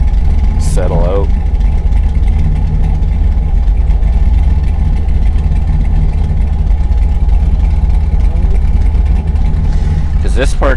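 A car engine idles after a camshaft swap, producing a constant low, rumbling drone with a faint voice heard briefly over it.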